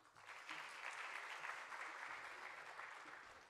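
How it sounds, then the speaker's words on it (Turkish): An audience applauds a Sufi music choir, the Süheybi Rumi Tasavvuf Musiki Korosu, as it leaves the stage, a steady wash of clapping that swells slightly and then holds, fairly soft and distant. "Alkışlarla sahneden uğurluyoruz."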